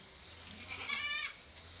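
A single young goat bleats once, a short wavering cry fairly close by on a livestock farm, over a quiet background hum.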